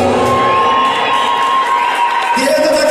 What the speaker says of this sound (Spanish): Nos escuchan los aplausos.